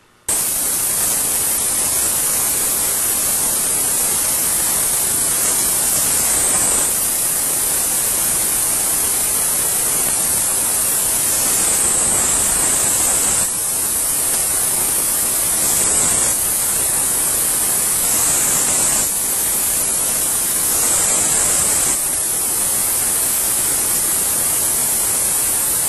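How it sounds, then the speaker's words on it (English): A MaxSpray machine sprays orange dye through a hospital room, a loud, steady hiss of misting spray that runs almost unbroken for the whole stretch, with slight shifts in tone. "So what we're going to do, we're going to spray"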